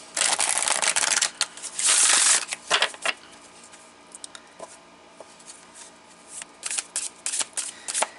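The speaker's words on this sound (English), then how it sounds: "I'm going to pull the first 2 cards." Divine Beloved Oracle deck cards are shuffled and handled close by, with dense riffling bursts at first, then scattered softer flicks and slides, and a busier run of card handling near the end, with no speech.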